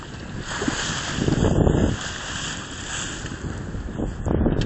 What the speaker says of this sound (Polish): Wieje, wieje troszkę, ale dajemy radę.